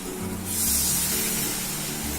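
Half a cup of milk poured into a sizzling spice paste for potol rezala, a sudden loud hiss and sputter rising from the pan and continuing steadily.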